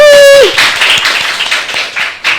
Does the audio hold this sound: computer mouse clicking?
no